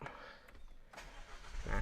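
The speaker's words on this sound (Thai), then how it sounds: "ถ้าเราจะสตาร์ทเครื่องอย่าเบรกกดหนึ่งครั้งเป็นการสตาร์ทเครื่องครับ" A 2023 Isuzu MU-X started with its push-start button: a short starter crank catches into a rising engine rumble near the end, heard close after a moment of quiet cabin noise.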